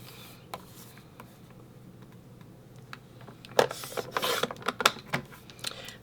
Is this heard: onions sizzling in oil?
no